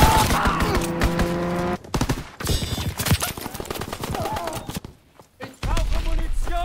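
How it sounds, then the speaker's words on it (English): A fighter plane's strafing gunfire in the Call of Duty WWII game, rapid loud bursts of machine-gun fire mixed with battle noise, a short lull near the end, and game voices talking. "Fighter pilot inbound, strafing the target."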